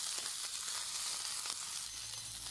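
Pork chops sizzle steadily as they fry in a pan for a cream cheese pork chop with mushroom dish, a continuous close, bright crackle with no one speaking.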